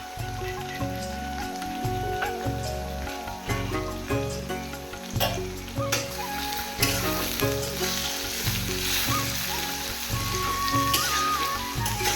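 Onion, tomato and ginger garlic paste fry together, a loud, continuous rain-like sizzle with occasional stirring clicks over a steady rhythmic low thumping background.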